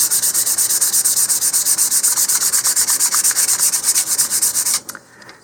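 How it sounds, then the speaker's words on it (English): 220 or 320 grit sandpaper rubbing back and forth along the seam of an Estes Hi-Flier XL model rocket nose cone, a close, steady rapid rasping rhythm that stops abruptly near the end. "You can sand that seam on both sides."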